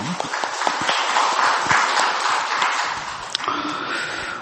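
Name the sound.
congregation applause in church service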